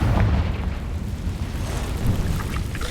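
A Confringo blasting spell detonating in a wizard video game, a heavy rumbling burst of explosion noise with a low boom that rolls on for a few seconds.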